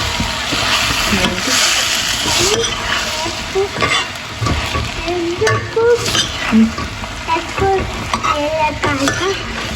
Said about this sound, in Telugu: ఇవన్నీ వేసుకున్నాక కూడా మిక్స్ చేసుకోవాలి.